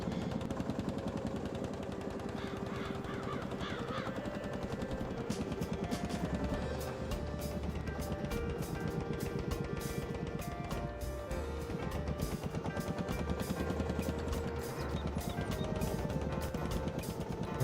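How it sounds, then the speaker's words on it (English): An old 1955 tractor's big engine runs steadily on a spring seeding day, pounding out a loud, rapid, heavy thumping rhythm that continues without a break. "it has that big beefy engine sound."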